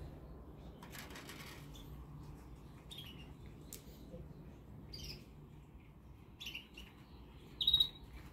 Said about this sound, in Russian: вон там где-то щеглы поют